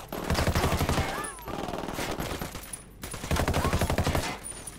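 Automatic gunfire in the video game Ghost Recon Wildlands, several loud, close bursts of rapid shots separated by brief gaps, with no talk over the shooting.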